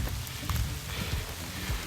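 Heavy rain pouring down on a hiking trail in a thunderstorm: a short, steady hiss of close rainfall with low patter beneath, unbroken by voices.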